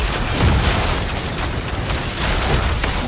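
A bridge is destroyed by a massive explosion in Diablo IV, a loud, sustained, rumbling blast filling the whole moment with deep booming and crackling debris.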